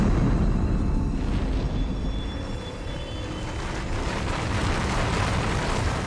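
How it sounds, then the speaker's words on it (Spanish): A massive roaring eruption blast from the volcano above Pompeii, a loud sustained rumbling roar with dense low boom that dips briefly then surges again, no voices. "a la 1 del mediodía llega la gran erupción"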